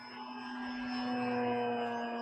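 Durafly Gloster Gladiator RC biplane in flight, a steady electric motor whine holding a strong constant tone with a slight swell in loudness, heard alone without talk.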